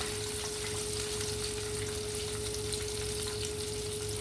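Chicken fries in hot oil, a dense steady sizzle and crackle that holds evenly at close range without a break, with a faint constant hum running underneath.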